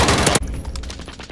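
An Uzi fires a rapid burst of gunshots, loud and close, the first dense volley cutting off abruptly and giving way to a string of quicker, lighter cracks.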